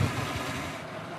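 A boat engine runs steadily near Newfoundland icebergs, a continuous rough mid-low drone with wind-like hiss and no talk.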